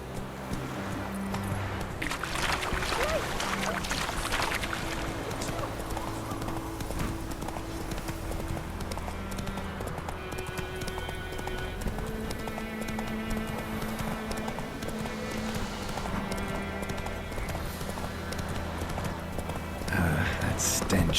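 Roach the horse gallops in The Witcher 3 with a continuous rapid clip-clop of hooves, steady and close, beneath game music and occasional voices.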